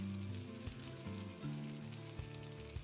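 Teriyaki sauce sizzles steadily alongside salmon in a hot frying pan, a soft continuous crackle heard alone with no talking.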